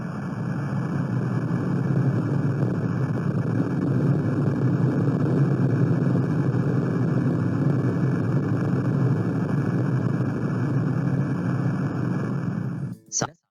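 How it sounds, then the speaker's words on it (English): A deep, continuous rumbling roar from an underwater earthquake recording with its frequency raised, steady and broad like distant thunder, holding for several seconds before cutting off abruptly. "scientists were able to record the sound of the earthquake under the sea"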